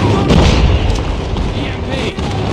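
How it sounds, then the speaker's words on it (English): A heavy airstrike explosion in Call of Duty Mobile booms loudly and rumbles continuously across the moment, thick with low-end roar and scattered crackling bursts, with no clear talk over it. "Friendly airstrike incoming."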